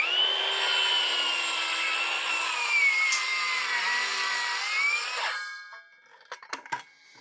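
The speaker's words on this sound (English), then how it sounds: "Let's make a couple cuts right here in the end grain of this beam, and we'll see how it does." A circular saw rips through the end grain of a pressure-treated hemlock beam, a loud, steady whining cut that holds for about five seconds, then stops, followed by a few short knocks and rattles.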